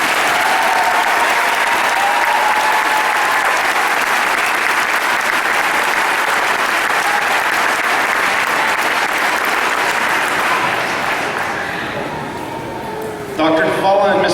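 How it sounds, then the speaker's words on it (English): Loud, sustained applause from a large audience at a high school graduation ceremony for the class of 2013 carries on for several seconds, then tapers off near the end as a voice begins over a microphone. "Let's have one more round of applause for these students."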